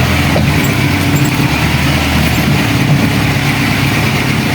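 The engine of a tow truck idles nearby with a loud, steady low rumble and a broad constant hum, no change in pace, and no talking.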